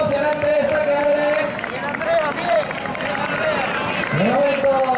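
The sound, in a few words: crowd applauding at girls' mile race in Gijón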